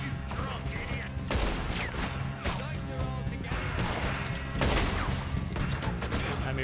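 Gunfire rattles through a Red Dead Redemption 2 shootout, repeated sharp shots and crashing impacts stacking over a steady rumbling backdrop, with several loud bursts standing out.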